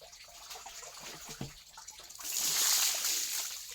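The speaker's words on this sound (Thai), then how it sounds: "ล้างให้สะอาดก่อนนะครับล้างให้สะอาดนะครับ" Catfish being washed in water, with soft sloshing and small splashes at first, then a louder rush of running, splashing water toward the end, with no talking.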